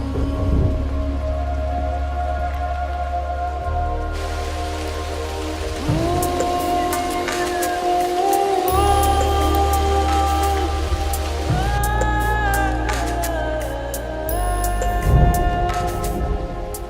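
Rain falls steadily as a continuous wash of noise, fairly loud throughout, with sustained tonal sounds layered over it and no talk.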